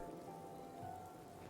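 Steady rain patters across a foggy coastal area in Fallout 4, a constant even hiss of drops on surfaces with no let-up and no voices.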